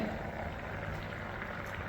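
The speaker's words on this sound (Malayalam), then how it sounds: "നമ്മളെ മീൻ കറി ഇതാ നല്ലപോലെ തിളച്ചിട്ടുണ്ടാവും" A no-oil fish curry bubbles in a pot with a steady, dense hiss of boiling that stays close and even for the whole short stretch.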